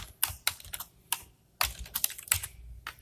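Someone types code on a computer keyboard: irregular clusters of close, crisp key clicks and clacks with short pauses between bursts, nobody speaking.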